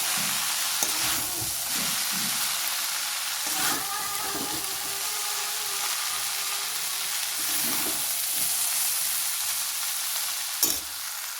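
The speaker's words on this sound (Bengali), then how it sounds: "সবজি আর চাউমিন একসাথে আমি ভেজে নেব" Vegetable chow mein fries in a hot pan with a continuous loud sizzle. Occasional clatters and scrapes of stirring break in at irregular intervals.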